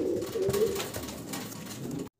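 A pair of White Gold Archangel fancy pigeons coo close by, a continuous low throaty warble with soft rolling pulses, heard alone with no talking.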